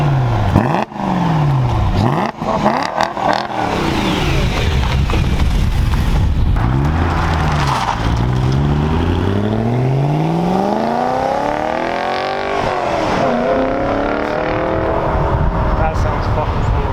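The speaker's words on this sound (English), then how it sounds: "Give it a few revs real quick." A BMW E92 M3 engine with OEM exhaust revs repeatedly, pitch sweeping up and down in loud throaty bursts, with voices talking over it.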